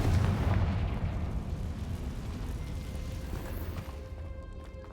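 Fire spell blast from the game Hogwarts Legacy: a loud, sustained low rumbling explosion that slowly decays with crackling debris over about five seconds, with no talk.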